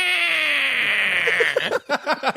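A person's voice imitates cats yowling, starting with a long, wavering high wail that slides downward, then breaking into short choppy yowls near the end, loud and close.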